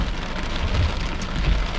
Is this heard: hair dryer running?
no